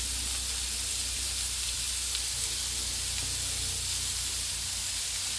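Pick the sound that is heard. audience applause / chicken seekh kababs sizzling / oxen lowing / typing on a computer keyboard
chicken seekh kababs sizzling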